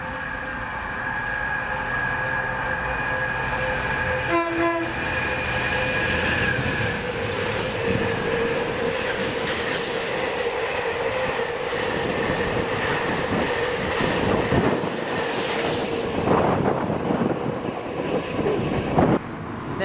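DRS Class 66 locomotive 66301 hauls a freight train past the station at Monifeith. It rumbles loudly and steadily throughout, with a brief horn-like tone early on, wagon clatter, and the pitch shifting as it passes.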